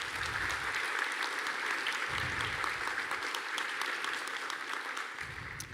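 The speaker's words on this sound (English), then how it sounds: "Let's give them a round of applause." Audience at a college convocation applauding, a dense, steady clapping from a large crowd that holds at an even level throughout without talk.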